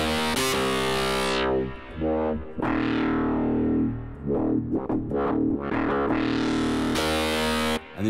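A heavily distorted guitar tone buzzes and shifts through the UNIFY plugin with a custom distortion table, with sustained, gritty harmonics that swell, sweep and cut out in turns.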